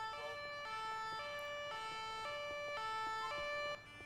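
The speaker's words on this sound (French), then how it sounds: "Hop, je vais appeler une ambulance." An ambulance siren from a video game wails in a steady two-tone hi-lo pattern, alternating about every half second, loud and alone with no talk over it.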